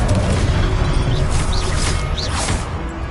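Confringo blasting spell going off in Hogwarts Legacy, a booming burst with a whooshing magical flare that rises and falls twice amid a steady, loud wash of game noise.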